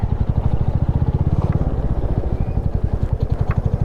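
A motorcycle engine thumps close by at low idle in a steady rapid beat while being parked near a monastery, loud and rhythmic, with faint clatter and no voices.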